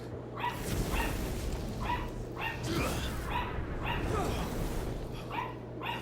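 A dog in Final Fantasy XVI gives a run of short yips and barks in quick, regularly spaced bursts over a low, steady hum of game background sound.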